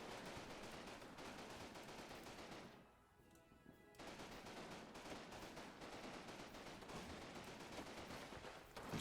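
Gunfire in Combat Mission: Battle for Normandy, a World War II video game: sustained rattling bursts of machine-gun and rifle fire, loud and dense, with a brief lull in the middle before the shooting resumes.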